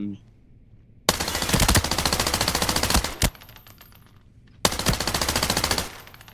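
Sustained automatic gunfire in the video game Arena Breakout: Infinite, with the F2000 rifle, comes in two loud, rapid bursts of close shots, a short pause with a couple of single cracks between them, and a quieter stretch at the start.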